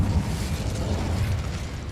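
An Incendio fire spell cast in Hogwarts Legacy: a steady, dense roaring burst of flame with a heavy low rumble, sustained for about two seconds with no talking.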